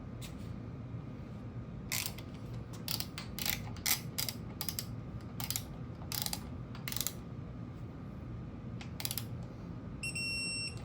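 A ratchet wrench tightens a bolt on a Gen 3 Ford Coyote 5.0 V8 engine, making bursts of quick clicking over a steady background hum, and a click-type torque wrench gives a clear final beep-like signal near the end.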